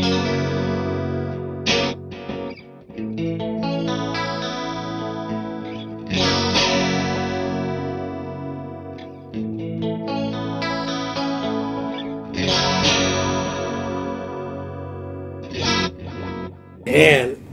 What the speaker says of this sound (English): So here's the H3000 micro pitch shift with the tape delay.